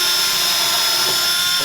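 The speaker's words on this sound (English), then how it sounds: "So I'm going to pre-drill, so it's right there." A power drill pre-drilling holes in a wooden 3D arch backdrop for events and parties, running as one steady, continuous whine throughout with no talking.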